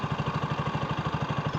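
An overheating motorcycle engine idles steadily up close, its low, even pulses thumping in a quick regular rhythm with no voices.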